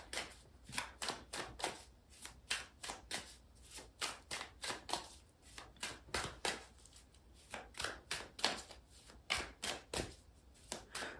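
Tarot cards are shuffled and pulled by hand in quick, uneven bursts of papery riffles and slaps, close and quiet, with no speech.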